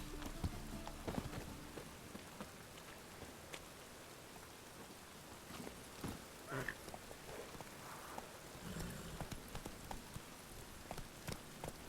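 In The Witcher 3 video game, steady rain patters over a dim background while a few hollow horse hoof clops sound now and then, with no talking.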